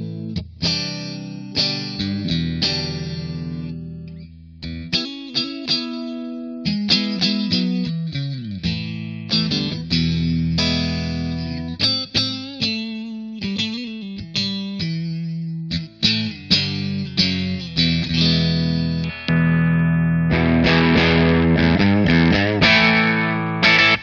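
An electric guitar played through a Blackstar Artist Series amplifier on its second, gain channel at moderate gain, heard as loud, saturated chords and single-note riffs alone, with short pauses between phrases.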